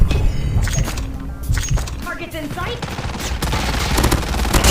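Rapid bursts of SMG fire from a fully kitted Fennec in the mobile shooter Call of Duty Mobile crackle loud and dense, mixed with game effects and thuds, while a voice talks excitedly over the action.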